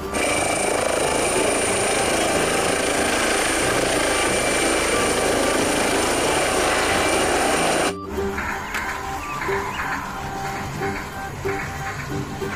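A toy police helicopter whirs loudly and steadily with a high buzzing motor tone, then cuts off abruptly and gives way to quieter clattering toy mechanical noise.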